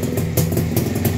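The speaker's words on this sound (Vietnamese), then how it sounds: "bây giờ em sẽ test phần nổ máy cho anh em nhé" A Yamaha motorcycle engine kick-started and running, a close, steady low putter with rhythmic pulsing and light mechanical clatter over its short span.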